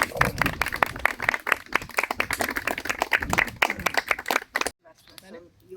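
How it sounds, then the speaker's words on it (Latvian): Guests at a Latvian christening celebration in Subate clap for two people, a close, uneven burst of individual claps with voices mixed in, ending abruptly into near quiet. "Es domāju, ka aplausi abiem diviem"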